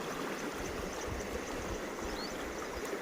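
River water surges steadily downstream from the full Girna dam, a constant broadband rushing roar close by with no breaks and no voices.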